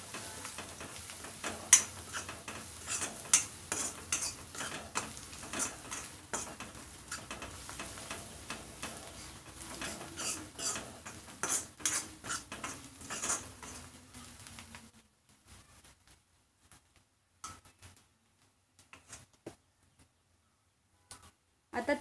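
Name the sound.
stirring spices in a cooking pan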